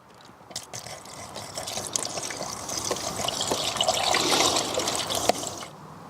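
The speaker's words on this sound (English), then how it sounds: "I will add up the rest with the deionized water." Deionized water pours steadily into a BMW 7 Series coolant reservoir, a soft gurgling trickle that builds gradually and stops near the end, close by.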